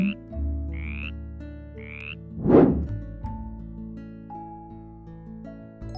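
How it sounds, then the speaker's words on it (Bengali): A single loud frog croak sounds near the middle, set against a quiet background with soft tonal notes around it. "ব্যাঙ ডাকে ঘ্যাঙর ঘ্যাং।"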